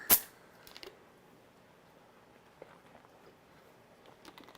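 A bottle of sparkling water is cracked open in a home kitchen during cooking: one sharp, loud hiss-pop at the very start, then quiet handling clicks and faint rustles.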